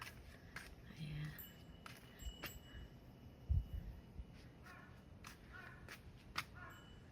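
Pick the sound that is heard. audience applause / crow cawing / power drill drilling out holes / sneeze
crow cawing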